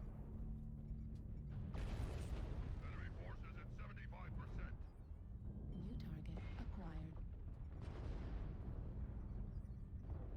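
Incoming weapons fire in a mech combat game arrives as repeated booming impacts and whooshing blasts over a constant rumble, with players talking over much of it.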